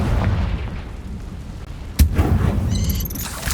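A Confringo blasting spell bursts in Hogwarts Legacy on Xbox Series X, one sharp close explosion cracking out midway over a low rumbling battle bed, followed by a bright shimmering magical tail.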